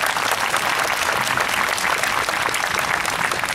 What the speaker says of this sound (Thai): ขอเสียงปรบมือต้อนรับพลเรือตรีวีรพันธ์วอกลางศิลปินแห่งชาติคอนดักเตอร์ในวันนี้ครับ